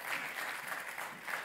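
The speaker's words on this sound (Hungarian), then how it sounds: "Most is lehet tapsolni egyébként." Church congregation applauding during a sermon, a brief, steady patter of clapping hands, moderately faint and diffuse across the room with no voices on top.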